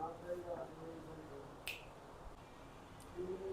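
A crisp finger snap cracks out once in a quiet room during a physics lesson, with a faint second snap shortly after and soft speech around it.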